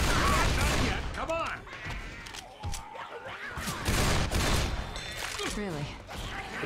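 Video game gunfire from Left 4 Dead 2 during a last-stand fight, heard as rapid volleys of shots and loud booms, with excited voices talking and shouting over the action.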